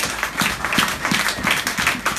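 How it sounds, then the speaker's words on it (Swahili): A church congregation claps together during a Sunday service, a dense, sustained round of applause from many hands filling the room with a fairly even rhythm. "Hebu mpigie Bwana makofi makubwa"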